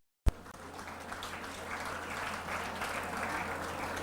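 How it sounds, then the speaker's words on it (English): Applause from the audience at an intercollegiate competition celebrating water, starting with a sharp onset and then holding as a steady, dense wash of clapping for several seconds with no talk over it. "give her a round of applause"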